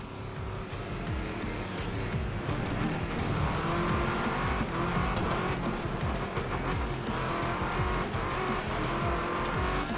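A race car in the video game Wreckfest 2 roars continuously at high revs, with tire squeal and skidding layered through ten seconds of dense, loud engine noise.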